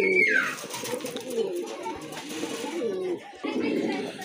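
A quality pair of pigeons coos nearby in low, rolling calls that repeat through the moment with a brief pause before resuming.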